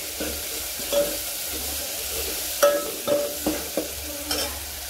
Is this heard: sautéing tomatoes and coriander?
yes